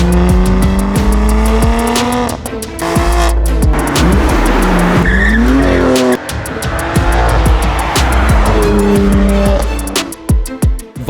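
A BMW M2 Competition with a Valvetronic exhaust revving and accelerating loudly close by, its engine tone climbing and falling through repeated gear shifts with sharp pops and crackles, some tire noise, and no voices over it.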